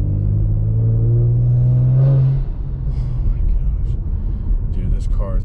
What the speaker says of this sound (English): This is a TCU Tune twin turbo E30 Stinger in sport mode.